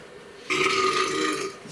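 A single loud, drawn-out burp from a person close by, lasting about a second, with no talking.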